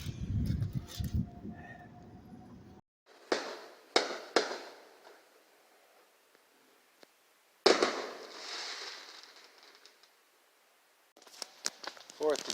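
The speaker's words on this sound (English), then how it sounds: "It's always too foggy to see any fireworks, but people set them off anyway" Fireworks booming and crackling in scattered bursts over foggy San Francisco in July, some sharp and close, others echoing, with voices talking briefly at the start.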